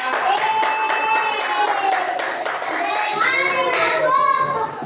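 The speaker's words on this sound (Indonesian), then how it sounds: "kita beri tepuk tangan buat kelompok yang pertama" Classroom of students claps for the first group after their presentation, a brisk patter of hands mixed with children's voices and loud shouting or cheering over the top.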